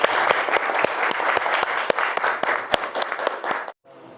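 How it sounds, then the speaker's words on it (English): A class of students gives a round of applause for Ari during a lesson: brisk, crowded clapping with sharp individual claps standing out, holding steady for several seconds before cutting off abruptly into near silence. "Give applause for Ari."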